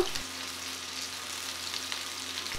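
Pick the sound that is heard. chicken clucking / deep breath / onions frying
onions frying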